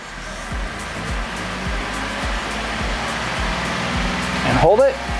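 Car engine raised to about 2,500 RPM and held steady during a battery and charging system test: a constant droning hum, with a person speaking over it throughout.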